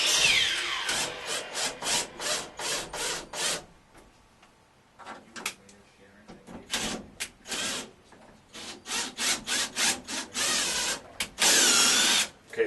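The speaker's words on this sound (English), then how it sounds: "run the screws in just to make sure they're going to go in the same holes that we tried for when we drilled them originally" A power drill drives screws into pilot holes drilled for a basement shower bar, in repeated short bursts of whirring with brief pauses, a longer pause midway, and a sustained final burst.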